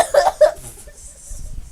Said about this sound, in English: Do you mind not coughing all over my stuff?